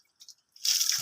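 Water splashes and pours while a child is bathed, a brief soft drip or two and then a close, steady rush of water.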